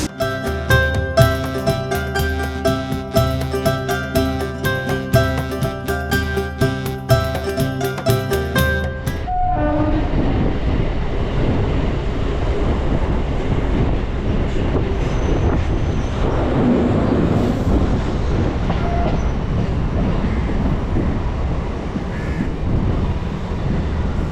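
A local train runs near Baranagar, heard from inside a compartment. A steady tonal passage opens the clip, then gives way to a continuous loud rumble and rhythmic wheel clatter with occasional metallic squeals.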